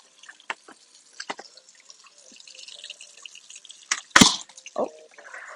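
Food for a homemade beef pot roast is rinsed at a sink, with scattered drips and splashes, a brief gush of running water and clattering handling sounds, fairly close and without talk.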